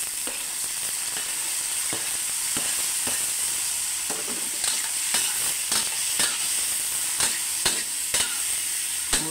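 Tomatoes drop into a pan of frying pork kaldereta, setting off a steady loud sizzle and hiss broken by clinks and scrapes of stirring. No talking.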